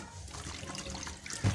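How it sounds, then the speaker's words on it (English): Broccoli and cauliflower are rinsed in salted water, giving a faint, brief trickle and slosh of liquid with a small splash near the end. "Wash also in a salted water"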